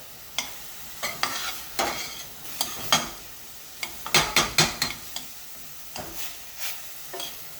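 Corned beef and corn sizzle in an oiled pan while a utensil scrapes and stirs, giving a string of sharp scraping strokes over a constant frying hiss, close up.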